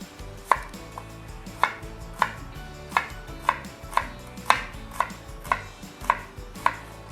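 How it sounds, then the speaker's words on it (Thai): A knife slices shallots steadily on a cutting board, about a dozen crisp, evenly spaced knocks close by, with no talking. "เดี๋ยวเรามาซอย หอมแขกกันก่อนเลยค่ะ"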